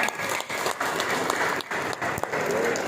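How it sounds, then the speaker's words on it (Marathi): An audience at a yoga festival gathering in Shegaon, Maharashtra breaks into loud, sustained applause, dense clapping filling the whole stretch with brief dips. "चला एकदा जोरदार टाळ्या वाजवूया"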